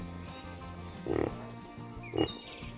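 Pig grunting with two short, loud oinks about a second apart, while a voice talks underneath.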